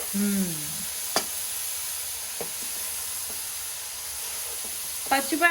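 Grated carrots frying in a thick nonstick pan for gajar halwa give a steady soft sizzle, with a few brief stirring clatters and short bursts of voice over the hiss.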